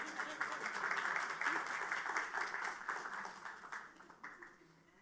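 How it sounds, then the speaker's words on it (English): Applause breaks out at a city council meeting during a graduation recognition: a room of people clapping steadily, fairly faint, with a scattered texture that fades toward the end. "Yes, you can clap."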